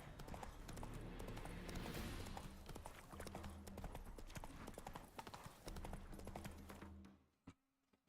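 Hooves of Roach, a horse in a video game, clip-clop in a steady rapid rhythm, close and fairly loud, slowing and stopping near the end.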